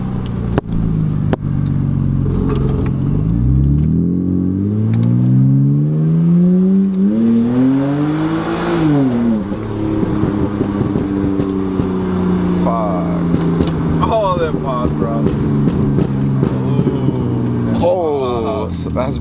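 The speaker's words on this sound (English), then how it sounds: "I'm gonna do my first pull from first gear all the way to second" A BMW E90 328i with the catalytic converter, resonator and muffler removed revs hard and climbs through the gears. The raw, loud engine note rises in pitch and drops at each shift, with pops and crackles, and people talk over it near the end.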